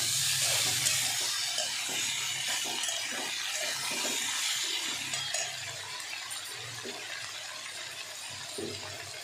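Elephant foot yam stalks added to half-fried onions in hot oil in a home kitchen: a steady, fairly quiet sizzling hiss with small crackles and occasional clicks of stirring.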